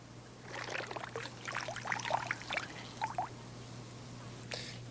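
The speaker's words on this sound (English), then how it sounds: "Now pour fingernail polish remover over the top." Nail polish remover trickles and pours over mashed plant goo in a glass, a brief close, gentle dribbling splash lasting a few seconds, alone with a faint steady hum underneath.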